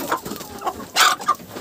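Chickens cluck in a farmyard at evening, a few short close clucks and squawks from hens that are restless around the nest.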